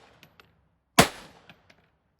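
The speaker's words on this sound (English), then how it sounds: "Shot my Walther PPKs and my Ruger" A single sharp, loud gunshot from a .22 Ruger Mark III or Walther PPK pistol at an outdoor range, ringing briefly before fading, with a few faint clicks around it.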